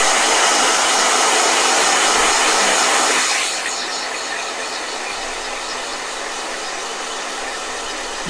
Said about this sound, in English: Now he's gonna blow dry for a really, really, really long time.